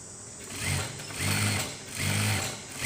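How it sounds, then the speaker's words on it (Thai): A sewing machine stitches a shirt sleeve cuff in short, steady whirring bursts, three runs of mechanical stitching separated by brief pauses, close and fairly loud with no talking. "เราก็จะเย็บปลายแขนก่อน"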